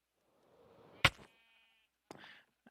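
Sheep bleating inside a sheep barn in a video game, one loud bleat followed by a shorter, quieter bleat and a faint thump, with near-silence between.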